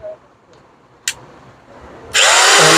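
A Crown 800-watt hammer drill starts up in hammering mode near the end, a loud, close, harsh rattling whine after a short click and quiet pause.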